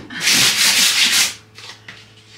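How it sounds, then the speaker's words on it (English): Wooden table being sanded for a kitchen eat-in corner: a loud, close rasping rub in a few back-and-forth strokes, then fainter passes. "I don't plan on boring you with all this sanding."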